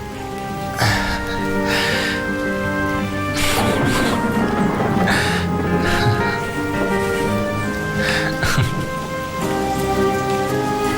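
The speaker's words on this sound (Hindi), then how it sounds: "अरे बारिश हो गई।" Heavy rain pours steadily onto a surface nearby, with sharper drips and splashes standing out over a background of music-like tones.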